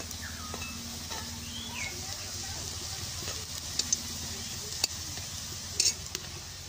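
Pumpkin leaf fritters frying in oil give a soft, continuous sizzle. Occasional clinks of a utensil against the pan and light stirring cut through it, and a faint voice sounds in the background.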